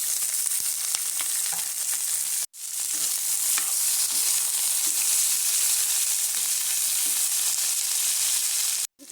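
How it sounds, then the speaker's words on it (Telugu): Ivy gourd pieces fry in hot oil with a loud, continuous close-up sizzle and crackle. Faint stirring knocks come through it, and the sound cuts off abruptly twice. "ఇప్పుడు ఇదే ఆయిల్లో మనం ముందుగా కట్ చేసి పెట్టుకున్న దొండకాయ ముక్కలు వేసేసి వేయించేసుకోవాలి."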